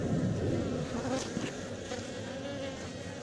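Honeybees at an open hive of a queenless colony in Montgeron produce a dense, steady buzz up close, with no voices.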